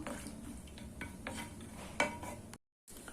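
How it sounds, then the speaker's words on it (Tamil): Chopped cashew nuts roasting in a pan for coconut rava laddu, soft scraping and stirring with light clinks of the spatula over a faint fry, quiet and close, ending in a brief silence. "இப்போ சேர்த்துட்டு இது செவக்க கொஞ்சம் வறுத்து எடுத்துக்கலாம்"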